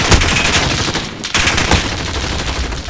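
Rapid video-game gunfire fills a gunfight tournament round, loud and close, with dense automatic bursts and a brief gap before the shooting resumes.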